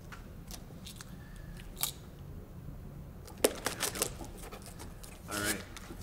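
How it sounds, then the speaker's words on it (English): A blade slices open the tape on a shipping box for an HP OMEN 15 laptop, with scattered sharp cracks and scraping rips, quiet and close, while a voice talks lightly throughout. "And we're just gonna cut the tape."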